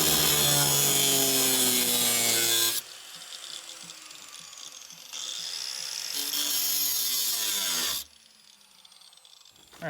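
Harsh grinding cut through a metal battery tray on a Ford Pinto in long loud bursts, pausing and resuming a few times with ringing tonal whine.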